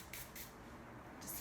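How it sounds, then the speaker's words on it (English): Sea salt hair spray is misted onto hair in short hissing bursts, three quick sprays spaced apart at close range with no talking. "I'm gonna use the sea salt spray."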